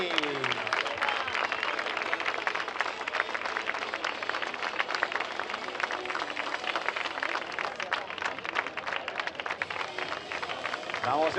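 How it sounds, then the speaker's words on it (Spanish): Audience applause at an international race-walking award ceremony in A Coruña, steady dense clapping sustained throughout, heard alone without talk over it. "Damos ese fortísimo aplauso"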